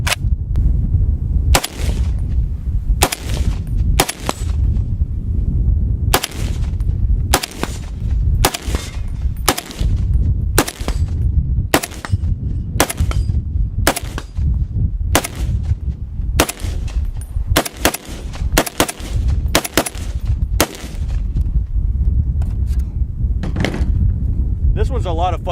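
Rifle shots from a heavier cartridge fire in a long, irregular series of loud, sharp cracks, each followed by a brief ring, with occasional metallic cycling clanks between them.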